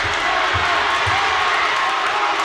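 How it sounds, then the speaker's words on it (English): Crowd at a high school boys' basketball game cheering for the Gators, a dense, loud roar of voices that stays unbroken throughout. "People going nuts for the Gators."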